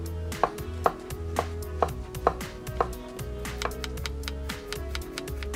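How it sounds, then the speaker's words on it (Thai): Carrots and potatoes being diced into cubes on a cutting board for a vegetarian steamed bun filling, a steady series of crisp knife chops striking the board at a regular pace, close and clear with no talk. "ก็หั่นแครอทเป็นเต๋านะคะมันฝรั่งก็หั่นเป็นเต๋าเหมือนกันค่ะ"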